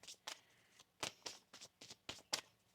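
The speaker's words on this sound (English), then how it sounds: "One more shuffle." A deck of tarot cards is shuffled quietly by hand, giving a series of short, crisp riffling bursts in an uneven rhythm, close and soft.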